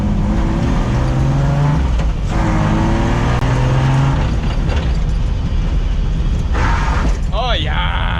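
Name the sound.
race car driving while testing a Chase Bays hydro e-brake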